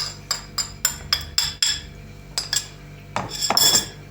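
A fork or whisk repeatedly clinks against a bowl of eggs in quick irregular taps, then a brief scraping flurry of mixing, close and fairly crisp.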